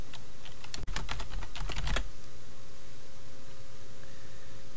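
Close, crisp keystrokes on a computer keyboard tap out a quick burst of typing for about a second, then stop, leaving a quiet steady hum.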